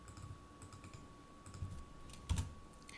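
Someone types a command on a computer keyboard: soft, quick key clicks in short clusters, with a heavier press near the end like the enter key, recorded faintly over a steady electronic hum.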